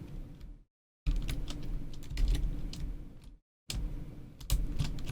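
Computer keyboard keys pressed during Blender 3D house modeling, a quick run of light clicky taps in short bursts separated by brief silent gaps, close and fairly soft with no talking.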